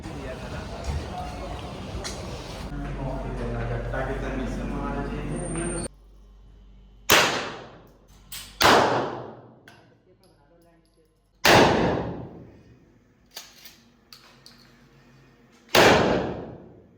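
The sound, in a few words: shotgun and pistol gunshots at shooting range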